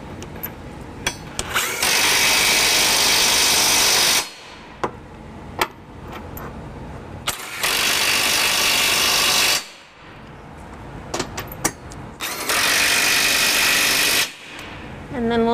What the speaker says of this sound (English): we're gonna use our electric drill and a deep 22mm socket to just snug them down